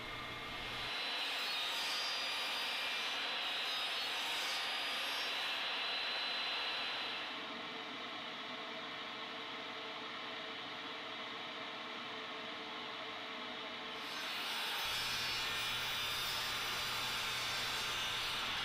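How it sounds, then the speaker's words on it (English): A table saw cuts notches in reclaimed plywood. The blade spins with a loud broadband whine, drops to a lower steady hum while it runs through the wood, then rises again when the cut clears, with no talking. "make a couple of cuts with the table saw"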